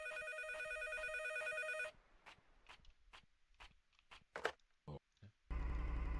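Telephone in an indie horror video game ringing with a loud, steady electronic tone that stops abruptly, followed by scattered clicks and thumps before the ring resumes.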